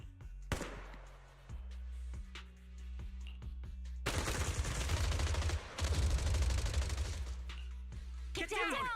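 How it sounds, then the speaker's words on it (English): Rapid bursts of gunfire in the video game Zenless Zone Zero crackle across the clip, growing louder and denser midway, with a sharp whooshing sweep near the end. "Gunfire? This pattern. Suppressive marching fire."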